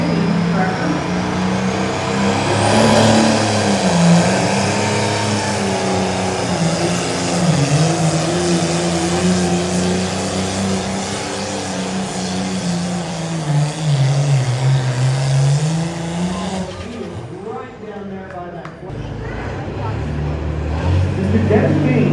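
Pulling tractor engine roaring at a tractor pull in Brown County, a loud, sustained low drone that wavers in pitch as it strains down the track, then cuts off abruptly before the crowd noise returns.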